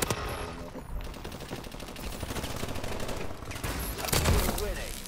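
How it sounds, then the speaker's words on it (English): Loud, sustained barrage of gunfire and missile-strike blasts in Call of Duty: Advanced Warfare, rapid overlapping shots with a heavier impact burst near the end, and a voice talking over part of it. "Friendly missile strikes inbound."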